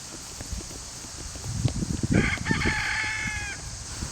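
A rooster crows once, fairly close, preceded by scattered clucking and shuffling noises from chickens on a small farm.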